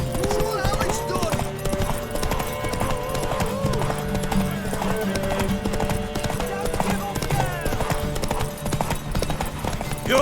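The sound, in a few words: horse galloping hooves in The Witcher 3 video game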